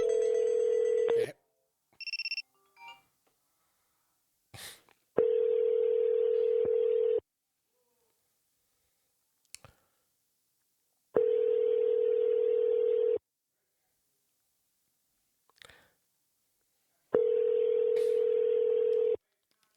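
Ringback tone on an outgoing phone call to an AI agent, three long steady buzzing rings about two seconds each with silent gaps, preceded by a few short dialing beeps and clicks.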